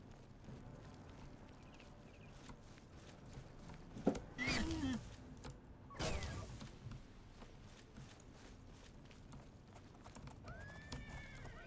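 Quiet hoof clops from a horse in The Elder Scrolls, with a couple of louder neighs and snorts standing out midway over faint background sound.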